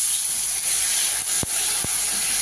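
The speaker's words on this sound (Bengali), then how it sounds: "এবার আমি ঝোল দিয়ে দিচ্ছি পরিমাণ মতন" Broth poured into hot, fried-down spices in a pan for an eggplant and catfish curry hisses steadily, with two sharp bursts of sizzle as the liquid hits the hot pan.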